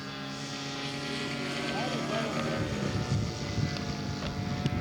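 Scale model Spitfire aircraft engine droning steadily at an air show as it makes a touch and go, a continuous buzzing roar with wind noise across the microphone.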